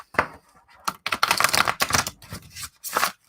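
Deck of playing cards being riffle shuffled up close: quick, crisp fluttering clatters in several short bursts with brief pauses between them.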